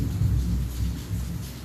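Low, continuous rumbling thunder during rain in Manaus, in the Amazon, rolling steadily at moderate loudness for under two seconds with no voices.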